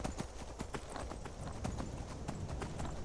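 Horse hooves beat in a rapid, even clip-clop rhythm in the video game Skyrim, close and steady but fairly faint, with no talk over them.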